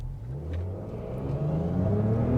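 A 2025 Jaguar F-Pace R-Dynamic S pulls away from a complete stop, its combustion engine heard from the cabin as a steady, rising growl that climbs in pitch through the rev range with no talking.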